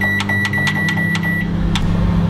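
A low-wattage microwave oven runs with a steady, loud electrical hum and drone, while a string of quick, evenly spaced high ticks or beeps sounds over it for about a second and a half.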